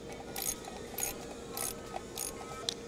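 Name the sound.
torque wrench tightening bolts on DV6 engine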